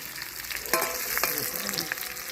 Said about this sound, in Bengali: আমাদের আলু ভাজা কমপ্লিট আলুগুলো তুলে নিচ্ছি